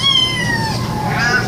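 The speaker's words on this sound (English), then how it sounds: "See, we have some kittens there." Kittens at an animal rescue shelter meow in a few high, drawn-out cries that bend downward, close and loud over a faint room murmur.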